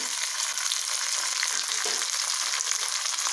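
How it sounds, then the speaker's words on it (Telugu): Curry leaves and mustard seeds frying in hot oil give a loud, steady crackling sizzle with dense spitting pops throughout, no voices. "అందులో కరివేపాకు ఇవన్నీ కూడా మనం వేసి ఫ్రై అవ్వాలి."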